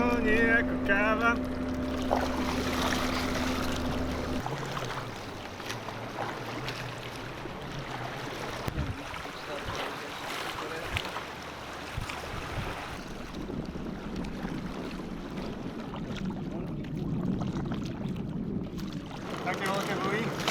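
A kayak on a river rocks in waves thrown up by large passing ships, with water sloshing and wind buffeting the microphone, while people talk over the steady noise.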